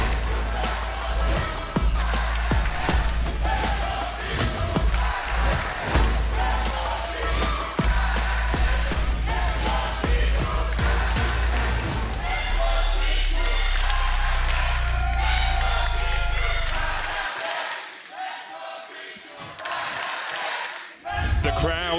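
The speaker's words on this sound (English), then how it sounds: "The crowd taking turns to cheer on their teams" Big esports arena crowd at a League of Legends LEC Spring match between Fnatic and G2, with loud sustained cheering and chanting that rises and swells, quieting near the end, with some talk underneath.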